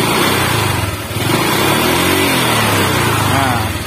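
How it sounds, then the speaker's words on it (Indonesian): Motorcycle engine revved up to higher RPM, with a faint tick from low oil buried in the steady loud drone, while someone talks over it throughout. "kalau sudah kita gas bosku ya, kita gas, RPM nya kita naikkan"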